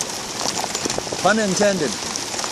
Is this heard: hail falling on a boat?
yes